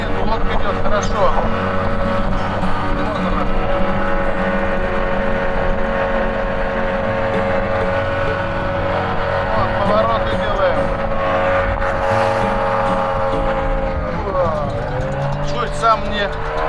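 An airboat with an air propeller, the Yolva 6, runs over the water carrying a 120 kg rider, giving a loud, steady engine and propeller drone that holds throughout with slight pitch shifts as it turns, and someone talks over it.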